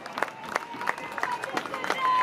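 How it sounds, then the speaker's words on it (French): Crowd at a street protest rally against Macron in Toulon, France, with scattered clapping and cheering under chanting and shouted voices, a busy outdoor din of many people close by. "Applaudissez-vous!"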